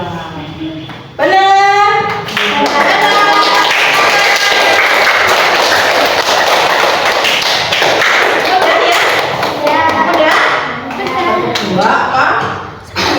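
Children in an elementary classroom clap their hands in a counting game, with loud, dense claps running through most of the stretch while a teacher and kids talk over them.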